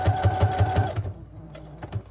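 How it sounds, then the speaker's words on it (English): A sewing machine runs a straight stitch on a paper journal folio, a quick rapid burst of close, evenly spaced needle thumps that slows and stops, followed by a few softer mechanical clicks. "I'm going to switch to a straight stitch just to change it up."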